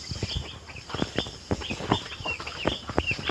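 A group of chickens clucks close by in quick, uneven bursts, with overlapping calls and no voices.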